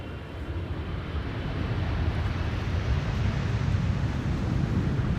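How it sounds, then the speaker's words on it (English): A KLM Boeing 777-300 airliner arriving at Amsterdam Schiphol after a long flight from Curaçao, heard as a steady, broad jet roar building slightly and holding loud throughout, with wind rumble and no talking. "This is KLM Flight 736, arriving from Willemstad Curaçao, 777-300, 8 hours and 32 minutes on the way."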